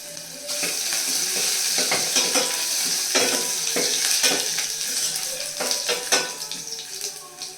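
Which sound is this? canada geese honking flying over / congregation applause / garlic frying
garlic frying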